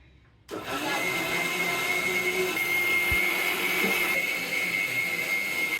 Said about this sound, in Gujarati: આનું ઢાંકણું કરી દઈએ બંધ અને કરી દઈએ આપણું મિક્સર